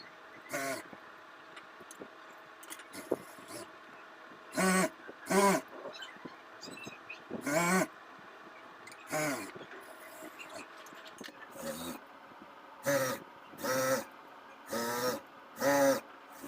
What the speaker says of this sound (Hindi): अब हम सिलाई लगा लेंगे।